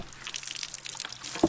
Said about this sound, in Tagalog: Tuloy ang tuloy ang tubig ano.